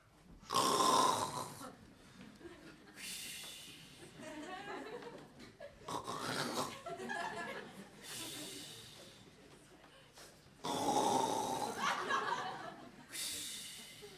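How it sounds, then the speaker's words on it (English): Loud, rasping snores in a stage play repeat in a slow rhythm, each long inhale roaring close up, with softer breathy exhales between them. "Simpkin snored loudly."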